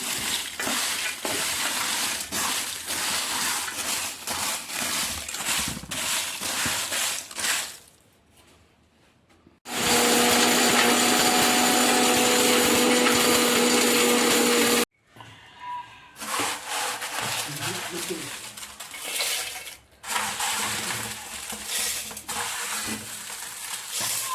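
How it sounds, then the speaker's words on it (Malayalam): A mixer grinder whirs loudly in bursts grinding roasted sambar spices, its grinding roar starting and stopping with short pauses between runs. "നമ്മുടെ മിക്സിയിൽ തന്നെ പൊടിച്ചെടുത്തതാണ്"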